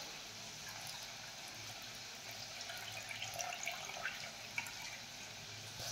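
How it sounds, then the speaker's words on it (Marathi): Water drained off soaked dal and rice for khichdi, a steady faint splashing trickle lasting throughout, with no voices. "आता आपण डाळ आणि तांदूळ यामधलं पाणी काढून घेऊयात।"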